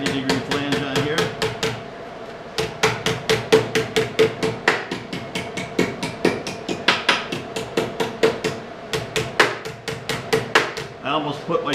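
Sheet metal is hammered over to form a 90-degree flange for a furnace plenum, with dozens of sharp, ringing metallic blows in a fast, fairly steady rhythm after a brief pause.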